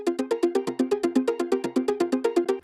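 Tuned, layered synth with a noise layer on top, pulsing in a fast, regular stream of short plucked notes with a slight melodic shift, close and alone.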